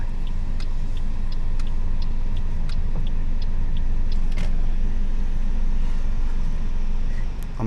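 A car slowing and pulling in to park at the roadside on a Spanish road trip from Barcelona to Pamplona: steady low engine and road rumble throughout, with faint clicks and small mechanical ticks, no talking.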